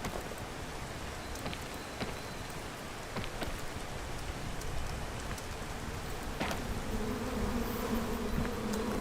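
Bees buzz in the video game Hollow Knight: Silksong, a steady insect drone over a constant hissing, rain-like ambient bed, with scattered sharp clicks and a faint tonal hum rising near the end, no talk.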